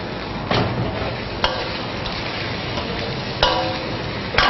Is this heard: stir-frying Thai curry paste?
yes